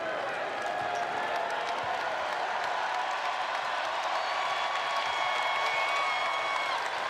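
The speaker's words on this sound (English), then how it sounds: "A lively crowd on a Saturday night in the Steel City, partying because Blake Hinson went for 41 and the Panthers stay red hot." A lively basketball arena crowd cheers and roars on a Saturday night in Pittsburgh as the Pitt Panthers host Louisville, a dense, steady wall of crowd noise that holds at a constant level throughout.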